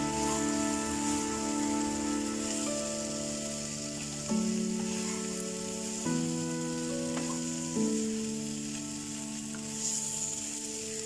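Jeera aloo, potatoes with cumin, sizzling gently in a pan over a low flame; a steady, soft frying hiss continues throughout with no voices.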